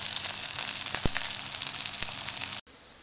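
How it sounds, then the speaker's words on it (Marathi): Onion and capsicum sauté in a hot pan for paneer chilli, a steady, loud sizzle running almost without a break, then dropping sharply to a faint hiss near the end. "आपण आपला कांदा टाकणार आहोत आणि हे चांगले आपण परतून घेणार आहोत"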